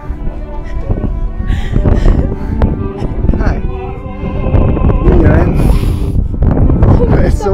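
Strong gusts buffet an outdoor microphone at a marriage proposal staged with an opera singer and orchestra, a loud rumbling roar that swells through the second half, with voices mixed in.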